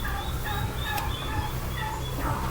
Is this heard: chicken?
yes